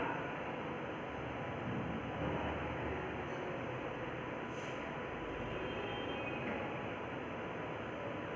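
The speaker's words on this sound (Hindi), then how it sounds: "रेलगाड़ी अपनी तेज गति से चल रही थी।" A moving train gives a steady, even rumble of wheels on track, a continuous mid-level wash of noise with no breaks or voices.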